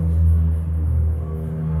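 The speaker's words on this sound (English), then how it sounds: "just like you heard that car just then" A car driving past on a rural road near a house, its engine a low steady rumble with a slight revving swell, fairly close and continuous, with no voices.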